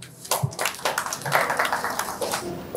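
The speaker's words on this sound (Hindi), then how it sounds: "President जनाब इफ्तिखार शेख साहब स्टेज पर तशरीफ लाएंगे आपकी भरपूर तालियों" Scattered hand claps build into light applause from a small panel-discussion audience as a speaker is called to the stage, uneven and fairly close, lasting a few seconds.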